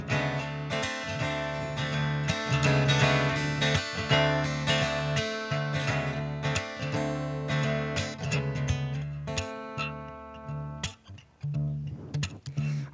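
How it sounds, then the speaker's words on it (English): Guitar plays with accompanying music at an outdoor open mic at the Cube, a continuous strummed performance with layered harmonic tones that thins out and breaks up near the end. "Little guitar coming at you."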